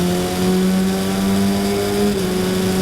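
Race cars surging away at a green-flag start of an oval feature race, loud sustained engine roar holding steady pitches with a brief shift near the end, close and continuous without speech.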